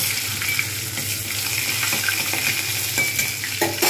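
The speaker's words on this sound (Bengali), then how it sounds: "এর মধ্যে দিয়ে দেবো এবারে একটু রসুন বাটা। জাস্ট আমি অল্প করে নাড়িয়ে নেব।" Garlic paste sizzling and frying steadily in hot oil in a pan, with a spoon scraping and stirring through it at intervals, close and continuous.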